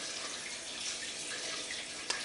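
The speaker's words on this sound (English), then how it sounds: "And just let all the water drip off." Water runs and drips off a wet 11 by 14 darkroom photo print, a steady close hiss of trickling liquid with one brief tap near the end.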